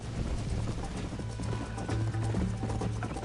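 Horse hooves pound in a quick, steady galloping rhythm, moderately close, with a faint snort or whinny in the background.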